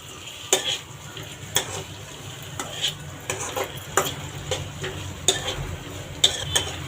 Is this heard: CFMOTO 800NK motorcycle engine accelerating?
no